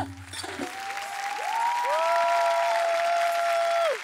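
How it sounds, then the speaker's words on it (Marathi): An audience applauds a Dhangar community folk dance troupe after its gajar dance on a Marathi TV game show, giving steady, sustained clapping with a few thin tonal sounds above it. "या मंडळासाठी जोरदार टाळ्या झाल्या पाहिजेत."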